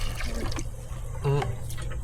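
Tap water runs in a steady, close-up hissing stream, with a brief voice partway through.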